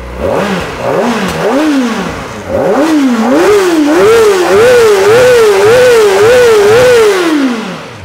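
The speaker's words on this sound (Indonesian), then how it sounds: "suara mesin dari mesin 400cc 4 silinder garis 2AC 16 katup berpendingin cairan ini" A Kawasaki Ninja ZX-4RR 400cc liquid-cooled inline four-cylinder, 16-valve motorcycle engine revs up and down repeatedly from around 2000 RPM idle, close and loud, its pitch rising and falling in quick, regular blips.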